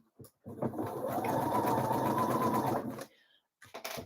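A sewing machine stitches a gathered seam on a Frida blouse, running in one steady burst of about two and a half seconds with a brief start and stop at either end.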